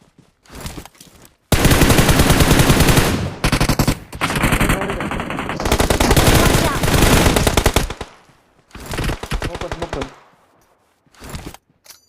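A mobile shooter game fires loud, rapid automatic bursts of gunfire, with long sustained volleys broken by short pauses and closing in scattered shorter bursts. A player speaks at times between the shots.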